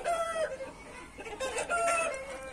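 A fighting gamecock crows with a drawn-out, wavering call heard up close, followed by further crowing and clucking. It is fairly faint, with no talk over it.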